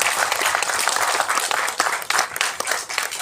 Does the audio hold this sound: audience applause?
yes